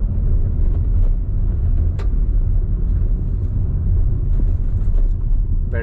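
Road traffic on a Delhi street during a curfew lockdown makes a continuous low rumble of passing vehicles, with a few faint higher noises scattered through it and no clear voices.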